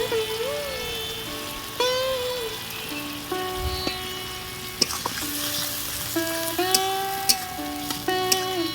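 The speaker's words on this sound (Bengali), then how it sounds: "দেখো মশলাটা দেওয়ার পর সামান্য একটু ভেজে নিয়েছি" Coriander and chilli powder sizzle steadily in a hot pan, a continuous close frying hiss with light crackles, under soft background tones.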